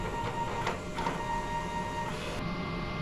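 A DTF printer runs its print head cleaning cycle, a steady mechanical whir and hum with a couple of brief clunks, close and continuous, ending in an abrupt drop in the motor tone.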